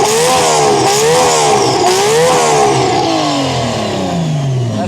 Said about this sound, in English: That does not sound like an RB. That's the oddest sounding RB I've ever heard.